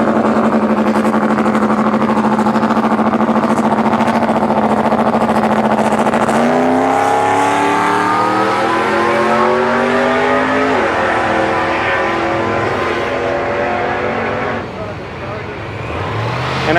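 A rear-wheel-drive newer Chevrolet Impala with an LS V8 swap makes a drag strip pass, its engine loud and steady before it winds up through rising gears and fades near the end, with tire noise.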